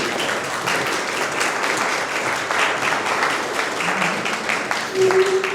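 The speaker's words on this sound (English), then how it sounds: "Can we just give these guys a round of applause" A town hall audience in Mountain View giving a sustained round of applause, dense steady clapping from many hands filling the room, with a brief voice near the end.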